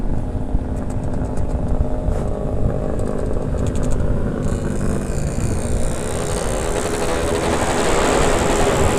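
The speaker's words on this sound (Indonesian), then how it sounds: "Knalpotnya Ardi gacor parah" A Kawasaki Ninja motorcycle engine revs loudly and roughly nearby, its exhaust roaring and rising in pitch toward the end, with no talking.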